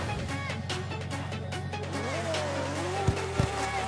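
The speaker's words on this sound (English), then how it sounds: "Oh, the engine sounds cool." A BMW M3 E46 GTR race engine in the CarX Drift Racing 2 video game holds a buzzy, steady drone with shifting revs, with tire squeal and brief sharp skid bursts near the end, while a person talks faintly underneath.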